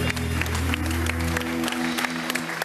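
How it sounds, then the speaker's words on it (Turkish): Studio audience applauding at a Turkish stand-up comedy show, a dense burst of clapping with steady low hum beneath, loud and close, thinning slightly toward the end. "Vay güzel, alkış."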